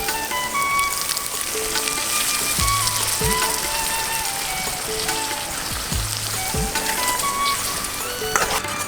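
Masala mixture for ivy gourd (dondakaya) curry fries in hot oil with a steady, dense sizzle throughout, broken by a couple of low knocks as it is stirred.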